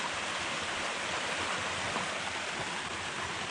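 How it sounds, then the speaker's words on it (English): Water gurgles and rushes in a dry-washing box for gold prospecting, shut off in the rain, giving a steady, close, hissing flow with no voices. "when you shut the water off, like I just done, it just gurgles"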